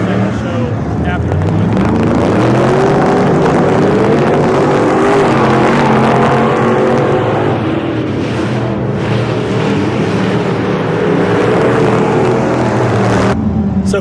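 Dirt track race cars rumble and rev as they are moved up a couple of rows, engine tones rising and falling over a constant mechanical roar while people talk.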